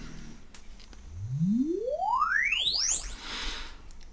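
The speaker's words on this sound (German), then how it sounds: "Ich spiele den Sweep mal ab" Sine test sweep played through a car audio system for an RTA measurement, a pure tone gliding steadily upward from low bass to treble over about three seconds, clear and alone.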